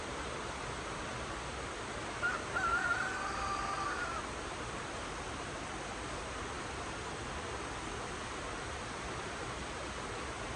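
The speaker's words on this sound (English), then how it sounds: "you can see the waterfall." Steady broadband rush of a distant waterfall on a cold morning, water flowing continuously at an even level with no breaks.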